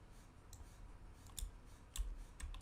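A computer mouse clicks a few times in a quiet room while a Unity game networking setup is being tested, giving sharp, faint, isolated clicks spread over a few seconds.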